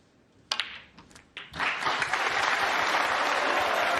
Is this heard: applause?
yes